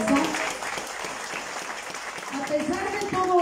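Audience applause at a PRI municipal committee swearing-in event in Izúcar de Matamoros, a steady patter of clapping filling the room under an amplified voice that carries over it.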